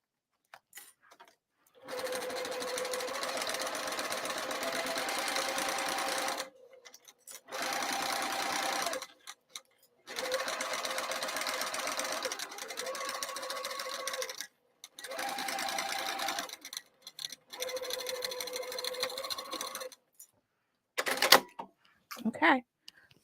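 A sewing machine sews the exterior of a bowler bag in several bursts of rapid whirring stitches, each separated by short silences, followed by a few brief clicks and knocks near the end.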